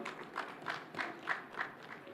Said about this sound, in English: Another round of applause for Abdi.